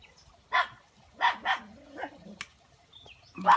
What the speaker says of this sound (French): Mon chien qui se fâche.